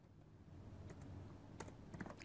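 Soft, quick keystrokes on a computer keyboard while text is typed into Microsoft Word, a faint continuous patter with a few sharper clicks near the end.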